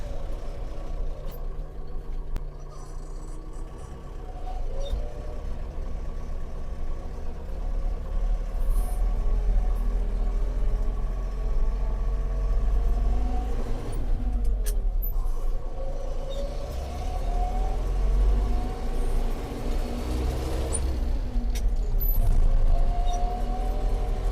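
Steady low engine drone inside the cab of a tractor working with a Strumok 500 spreader applying saltpeter fertilizer to winter crops, a continuous loud rumble with shifting mid tones, no talk.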